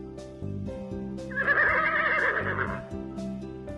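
A horse gives one clear, drawn-out whinny in the middle, set against repeating musical tones in a pretend toy-play scene.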